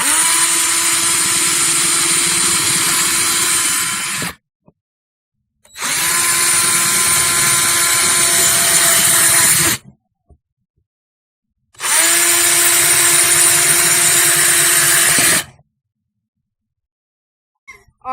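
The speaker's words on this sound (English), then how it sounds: "we're going to drill holes in this plunger" A power drill whines loudly in three long bursts of several seconds each, drilling holes in a plunger, separated by pauses of silence.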